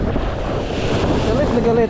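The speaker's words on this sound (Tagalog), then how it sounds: "Galit na galit ang alon." Rough surf crashes and churns continuously on the shore of Talim Island while strong wind buffets the microphone, a loud, steady roar filling the whole stretch.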